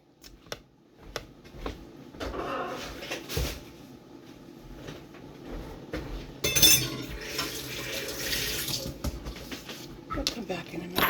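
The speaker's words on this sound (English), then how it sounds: "Some I'm going to pour down the drain" Liquid poured from a cooking pot down a kitchen sink drain: a splashing, rushing pour building in the second half, with clinks of pots and dishes earlier, and a voice talking over it.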